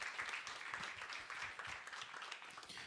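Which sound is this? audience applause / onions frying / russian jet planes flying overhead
audience applause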